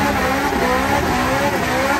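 A 700HP BMW M3 E90 with rear-wheel drive and worn rear tires driving on a snowy mountain road, its engine droning steadily and loud throughout with a sustained whining tone.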